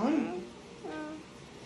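A voice imitates a kitten's meow, giving two short, high, wavering mews close by, the first louder and the second softer, with quiet room sound between them.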